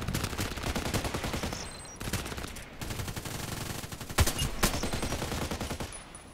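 An HK 417D assault rifle fires in a shooter video game. Bursts of rapid, loud gunfire repeat close up, broken by a few brief pauses, with sharper single cracks near the end.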